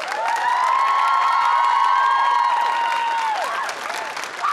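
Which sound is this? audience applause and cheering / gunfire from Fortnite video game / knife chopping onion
audience applause and cheering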